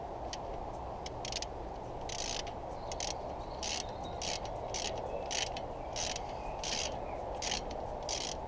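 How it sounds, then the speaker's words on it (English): Brake caliper bolts on the front of a second-generation VW Sharan are tightened with a 17mm spanner and a 13mm ratchet socket, producing a quick series of crisp, close ratchet clicks in irregular bursts over a faint steady hiss. "with our favorite combination, 17mm spanner and the 13mm socket, make it back tight again"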